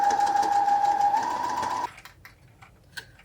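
A home sewing machine stitches forward with a steady, loud whir for nearly two seconds, then stops, leaving faint clicks and handling noises afterward.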